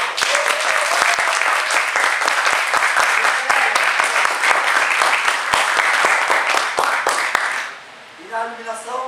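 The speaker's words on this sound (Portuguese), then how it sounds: "gostaria de pedir uma salva de palmas para a nossa assistente de produção, Ellen Silva." A theatre audience in Olinda applauds loudly and steadily for several seconds, dense clapping that ends abruptly near the close as a few voices begin talking.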